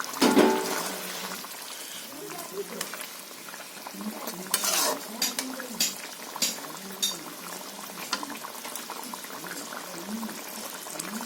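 Fried fish is added to a pot of boiled potatoes for a spicy Bengali fish curry, then stirred: close, soft scraping and wet stirring over a low simmering bubble, with a few clinks of the utensil against the pot.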